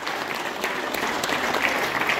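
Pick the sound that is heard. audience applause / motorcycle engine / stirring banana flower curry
audience applause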